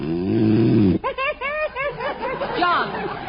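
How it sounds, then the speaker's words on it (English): A man snores loudly in an old-time radio comedy, with a long, rasping, nasal inhale and then a string of short, wheezy, whistling breaths out, close and in the foreground. "you said you wouldn't snore"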